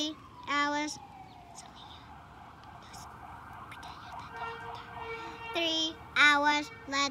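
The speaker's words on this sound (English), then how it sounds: "The ambulance is here." Ambulance siren arriving for a woman who hit her head while sleepwalking, a sustained wailing tone that glides downward then holds steady, moderately loud, with brief voices and other noises breaking in near the start and end.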